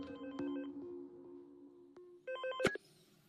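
A telephone in a film scene rings with electronic tones, then a louder burst near the end, over quiet background with no one speaking.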